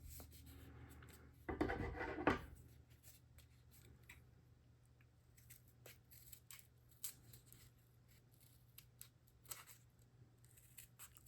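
Scissors snip through folded paper while a snowflake is cut out, with a loud burst of crisp cutting near the start followed by scattered quieter snips and paper rustles.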